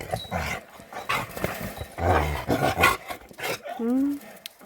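A dog barks and growls nearby in short, uneven outbursts, ending in a rising whine-like yelp, with people talking in between.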